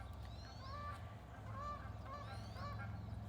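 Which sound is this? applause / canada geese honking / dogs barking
canada geese honking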